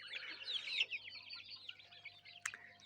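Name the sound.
chickens clucking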